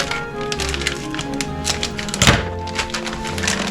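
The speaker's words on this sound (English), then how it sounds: "dump my nuts into the pie pan" Pecans, some crushed and some whole, are dumped into a pie pan, giving a cluster of close rattling taps that peaks in one heavy thunk midway.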